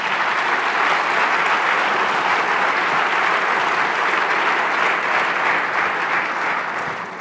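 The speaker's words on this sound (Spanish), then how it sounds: "Den un aplauso al Señor." A Spanish-speaking church congregation applauds during a service, a thick, steady wash of many hands clapping that holds for several seconds and slowly tapers at the end.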